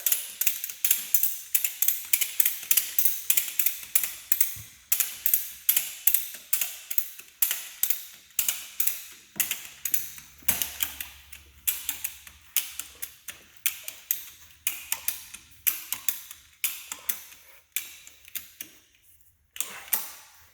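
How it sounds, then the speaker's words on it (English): A ratchet strap being cranked tight to fit a runflat inside a Hummer H1 tire gives long runs of close, crisp mechanical clicks in quick regular bursts, with short pauses between strokes and no voices. "And then you just start ratcheting."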